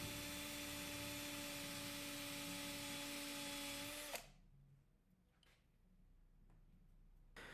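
A power drill turns a 3/16 tube cutter, boring out a broken screw from guitar timber in a steady whine, then stops abruptly, leaving a few faint taps and handling sounds.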